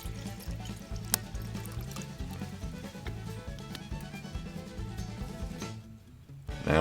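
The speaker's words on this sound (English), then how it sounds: "And we'll add our water." Water poured into a cup standing in as a pot on a wood stove at a hunting camp, a steady liquid trickle over a low rhythmic background rumble, fairly close and continuous.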